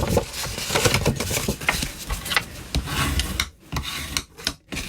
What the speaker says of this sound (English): you need to burnish all your score lines. So go ahead and do that and use your bone folder